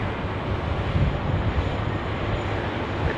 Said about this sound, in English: Philippine Airlines now, A330 coming in over the